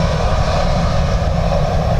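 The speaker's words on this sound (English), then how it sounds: "Nice little blast as it turned. So this is the Learjet, owned by Ryanair." A Ryanair-owned Learjet turning at Dublin Airport sends a loud, close jet blast across the apron, a continuous dense roar that holds steady throughout with no voices.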